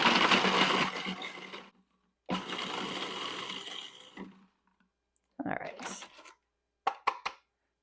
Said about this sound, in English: put your blade in, and then put the crackers in, then give it a whiz